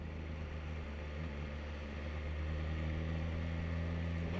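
A 2026 BMW S1000RR motorcycle cruising in second gear at about 25 mph gives off a steady, close engine drone with a constant low hum that holds even throughout, with no talking.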